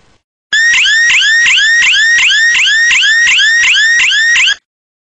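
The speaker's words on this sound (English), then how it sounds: "the curtain detector detects his movement and automatically creates an alarm" A loud, piercing outdoor burglar alarm, triggered by a curtain motion detector, wails in rapid repeating rising sweeps for about four seconds, then cuts off abruptly.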